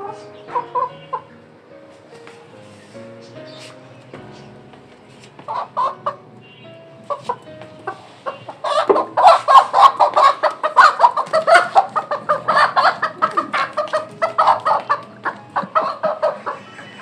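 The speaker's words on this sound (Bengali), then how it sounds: "এই যে সাদা কোয়েল ডাকতে শুরু করেছে" White quail calling, a few sparse tonal calls at first and then a dense burst of rapid chirping and clucking calls, close by and fairly loud.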